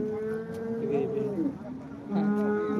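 Heifer calves at the Modnimb cattle market moo loudly and nearby in long, drawn-out calls, one after another, amid crowd murmur and talk.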